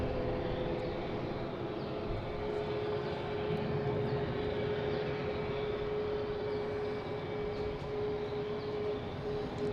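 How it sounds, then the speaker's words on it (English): A JetBlue airliner arriving from Las Vegas at Boston Logan, heard as a continuous broadband engine rumble with a steady tonal hum, constant in loudness and free of talk throughout. "next to arrive is a JetBlue coming in from Las Vegas"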